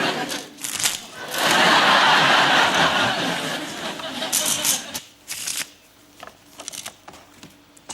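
A pack of playing cards being shuffled up close in a loud, dense riffle burst, followed by lighter card handling, with a studio audience laughing and people talking.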